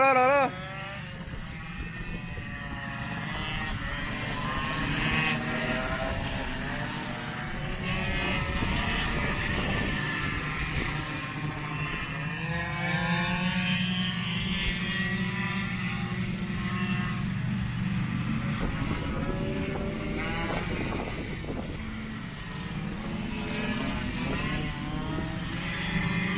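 Yamaha WR 50cc two-stroke motorcycle engine at an endurance race track, a continuous buzzing roar that rises and falls with revving, fairly loud throughout with crowd-like background noise.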